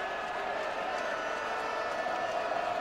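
Romanian football fans cheering in the stands at a Romania v Serbia World Cup 2010 qualifier, a steady, dense crowd roar that holds at an even level throughout.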